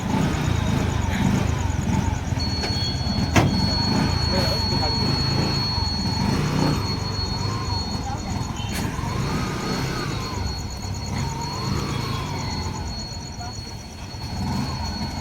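An auto rickshaw rides through traffic, its engine droning steadily and loudly up close amid passing vehicles and a sustained horn tone, while people talk over the noise.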